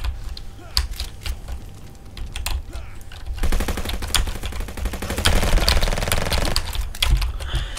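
SMG gunfire in the browser shooter Venge.io rattles in rapid, dense bursts, starting with scattered shots and then one sustained volley of several seconds before tapering off.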